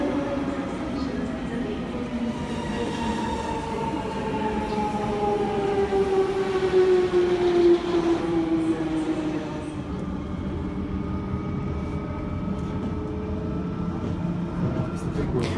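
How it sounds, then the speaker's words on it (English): A train rumbles past at Kilburn, London with a steady mechanical roar and a falling, siren-like tone that sweeps downward, loud throughout. "Kilburn is an ideal place to do some train spotting"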